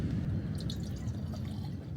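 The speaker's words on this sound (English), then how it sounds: "Pour some water in the pot." Water poured into a pot for a camp stove on a hiking trail to Kalalau Beach makes a steady, low, rushing trickle that runs unbroken and fairly quiet throughout.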